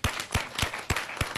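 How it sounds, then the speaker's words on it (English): Steady, evenly spaced hand claps ring out at a brisk rhythm, about four or five sharp smacks a second, close and fairly loud, at a community achievers event. "Let's give him a round of applause."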